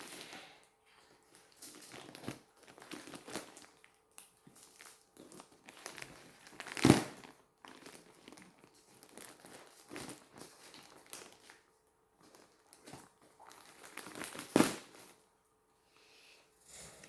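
Plastic packaging from a Temu parcel crinkles and rustles in scattered bursts while it is opened, close by with a few louder crackles and quiet gaps between.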